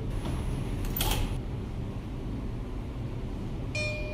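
Subway train doors closing in the OpenBVE simulator on the Times Square to Flushing–Main Street line, a short mechanical creak and clunk followed by a brief chime, over a steady low hum.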